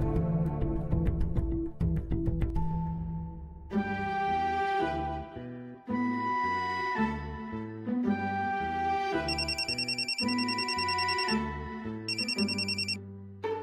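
A telephone ringing during a call in a Marathi TV serial scene, heard as a loud, close electronic ringtone melody of repeated tonal phrases that plays on alone for over ten seconds after a brief opening clatter.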